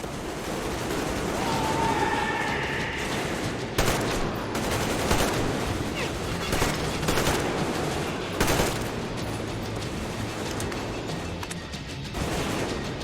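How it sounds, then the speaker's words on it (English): Bursts of gunfire crackle over a steady roar, with sharper shots standing out near the 4 and 8.5 second marks; the firing stays loud and continuous throughout, with no clear speech. "Who are they shooting at?"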